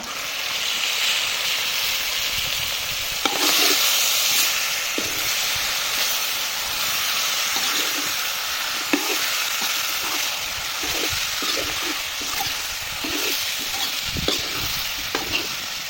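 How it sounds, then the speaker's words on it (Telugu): Chicken and onions frying in an iron wok for a village-style chicken fry, a steady loud sizzle with intermittent scraping and clacking stir strokes throughout. "ఉల్లిగడ్డలు చూడండి మంచిగా ఫ్రై అయిపోయినాయి ఇట్లా ఫ్రై కావాలి"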